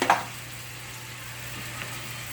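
About a tablespoon of butter drops into a hot pan with a short loud initial crackle, then settles into a soft, steady sizzle that carries on quietly with no one talking.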